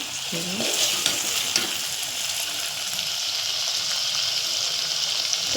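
Chili powder and turmeric sizzle and fry in hot oil for a Gujarati cluster bean curry, a steady close sizzle with occasional stirring scrapes throughout.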